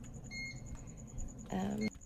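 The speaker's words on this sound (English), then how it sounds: "Oh, I forgot about the microwave. Still going off in here." A microwave oven beeps indoors in a home: short electronic tones sound twice, with a stronger, longer beep near the end, over a steady high whine and people talking.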